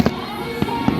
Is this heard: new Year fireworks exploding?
yes